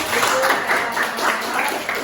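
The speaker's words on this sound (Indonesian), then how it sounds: "Baik, tepuk tangan." An audience claps together in a classroom, a dense, steady patter of hands that fills the short stretch at even loudness without a clear ending.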